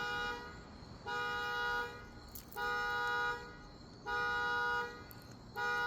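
A car horn sounds in four long, evenly spaced blasts with pauses between, loud and steady over a night-time background, the repeating pattern of a car alarm.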